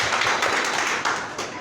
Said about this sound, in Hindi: ज़बरदस्त तालियां होनी चाहिए इन सबके लिए।